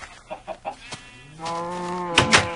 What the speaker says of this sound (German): meine Hühner haben einen Hühnerstall.